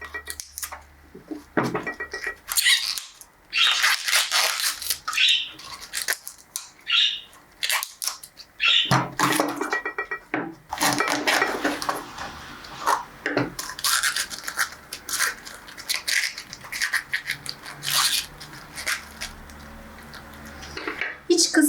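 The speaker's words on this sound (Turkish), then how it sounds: "Kenar yaprakları temizliyoruz." Outer leaves being pulled and cleaned off an artichoke, close crisp snapping and rustling tears in irregular bursts with quiet gaps between them, while a person talks intermittently over the work.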